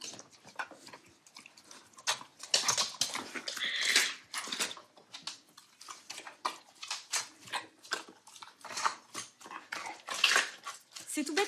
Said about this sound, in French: quand on voit un chien manger comme ça et prendre du plaisir à manger